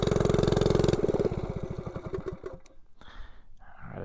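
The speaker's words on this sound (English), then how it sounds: "Let's turn down that idle a little bit." A 98cc Rascal mini bike engine idles with a loud, close, rapid pulsing putter that drops in pitch and loudness as the idle is turned down, then settles into a rougher, quieter chug.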